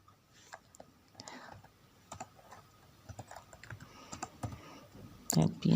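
Someone types a short command on a computer keyboard in quick bursts of light, close clicks at an irregular rhythm, with a soft voice murmuring in the background.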